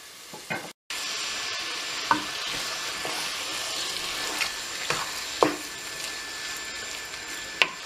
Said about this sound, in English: that's when you know that it's the right time to put the minced meat into the pan